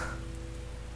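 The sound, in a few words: heavy rain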